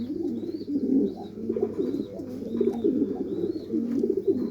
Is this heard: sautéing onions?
no